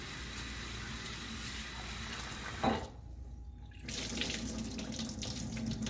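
Tap water runs steadily into a sink while poha is rinsed in a colander, a continuous close splashing rush with one brief pause and a clatter before flow resumes.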